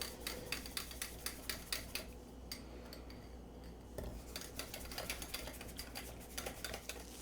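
Spoon or utensil stirring buttermilk powder into flour in a bowl for cinnamon biscuits, giving a run of quick scraping, clinking taps against the bowl, close and moderately quiet with no talk.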